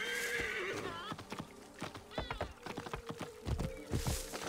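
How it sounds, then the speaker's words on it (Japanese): A horse in Assassin's Creed Origins gallops in with close, steady clip-clop hoofbeats, a loud whinny near the start and a few snorts, over faint game ambience. "ちょっと馬呼びます"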